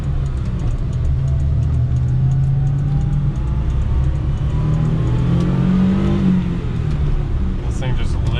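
A car with a 5-speed manual transmission revs hard while climbing uphill near 6,000 RPM, its engine loud and sustained with pitch rising and shifting, a voice talking over it.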